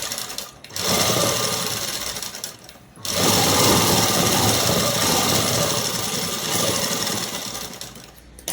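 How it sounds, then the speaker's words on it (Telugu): Sewing machine stitching a dress top: a loud, close, continuous whirring buzz in two long runs, with a brief pause near the start and another at about three seconds. "ఇలా నీట్గా జరిపి జరిపి మరీ కుట్టు వేస్తున్నానండి."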